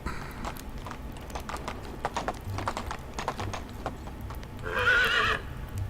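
A horse in the game Medieval Dynasty clip-clops in scattered hoof knocks over steady ambience, ending with a brief louder whinny-like burst.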